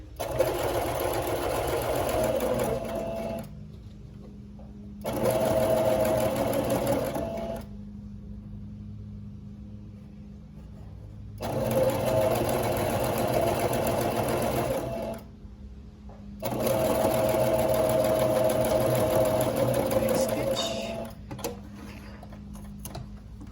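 A Brother PE800 embroidery machine sews through four layers of fabric on a diaper cover, its close, loud mechanical hum and ticking running in four long stretches with abrupt silent gaps between.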